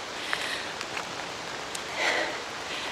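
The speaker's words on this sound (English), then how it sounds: "It's pouring rain today." Heavy rain pours on a hiking trail up Mount Thom, a dense, steady hiss with scattered louder drops and rustles, close and continuous with no talking.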